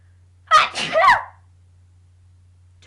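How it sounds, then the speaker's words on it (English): One loud, close sneeze in a quiet room, a sharp burst with a short drawn-out tail, over a low steady hum. "Just sneeze."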